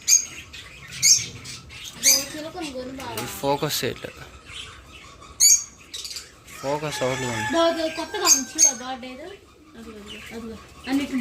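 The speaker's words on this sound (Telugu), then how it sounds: "ఇక్కడ లవ్ బర్డ్స్ ఉన్నాయి" Lovebirds in an aviary at a sanctuary give repeated high, shrill chirps and squawks in scattered bursts, with a person talking over and between the calls throughout.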